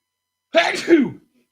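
A single close sneeze, a sharp burst with a voiced tail, lasting under a second between silence.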